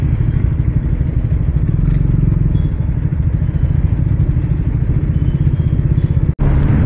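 A motorcycle moves through busy road traffic, its engine chugging loudly and steadily up close with light rattling, until a sharp dropout near the end.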